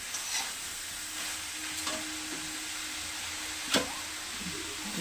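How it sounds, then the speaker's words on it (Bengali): Cabbage and boiled potato sautéed with rohu fish head in a covered pan give a steady low sizzle, with a few soft spatula scrapes and one sharper clatter near the end. "এবার খালি কষাবো, ঢাকা দিয়ে দিয়ে কষাবো খালি।"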